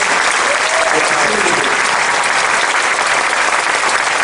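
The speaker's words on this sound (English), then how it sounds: "Round of applause for yourselves for supporting one of the finest parks in the top country." An audience at a live wildlife show at SeaWorld Orlando claps loudly and continuously, a dense, sustained burst of applause filling the whole moment.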